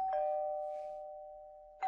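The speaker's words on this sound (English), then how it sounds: "I just heard the bell. I think he's at the door." A doorbell rings once, a clear ringing tone that fades slowly over almost two seconds, with a second strike starting at the end.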